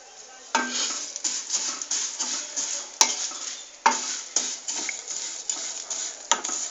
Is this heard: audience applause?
no